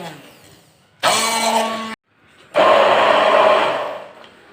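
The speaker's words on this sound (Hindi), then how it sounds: "अब मैं इसको करूँगी ब्लेंडर में ब्लेंड।" An electric blender grinds a chutney of dry fruit and green herbs in two loud, close bursts, a short first whirr, a brief pause, then a longer second run that ends abruptly.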